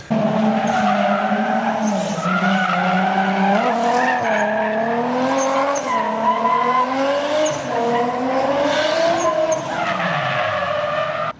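A Nissan 240SX or Lexus SC400 street drifting at night with the e-brake, tires squealing loudly and continuously, the pitch rising and falling while the engine drones underneath, with no talking.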